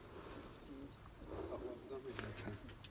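Tumbler pigeons coo softly inside a loft in Mersin, low murmuring calls rising and falling throughout, with faint chirps, background rustle and some nearby talk mixed in.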